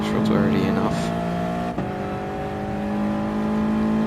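A race car engine in a racing game pulls hard out of a hairpin, a loud steady drone climbing in pitch, a quick gear change partway through, then continuing to rise under a voice talking.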